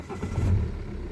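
A BMW 118d E82 diesel engine cranks and catches, a low rumble swelling near the mic over about a second before settling into a steady idle.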